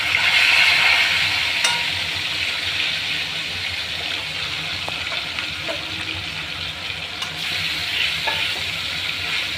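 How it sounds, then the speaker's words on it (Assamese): Rohu fish pieces fry in a pan with a strong, continuous sizzle and bubbling crackle, loudest at the start and then holding steady, with occasional stirring clicks. "মই ইয়াতে ৰৈ যোৱা মাছখিনি আকৌ ভাজিবলৈ আৰম্ভ কৰিছোঁ।"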